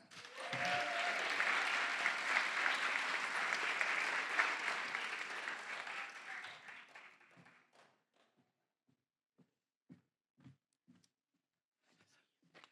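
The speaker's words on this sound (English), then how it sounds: "Can you please give a round of applause to Mr. Irvin Barragan?" Audience applause at a community graduation ceremony, a dense sustained burst of many hands clapping for about seven seconds that fades out into a few scattered late claps.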